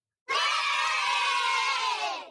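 Pre-recorded crowd cheering sound effect played in a podcast studio, a loud, dense roar of many voices screaming and cheering that starts abruptly and holds steady for about two seconds, with no talking over it.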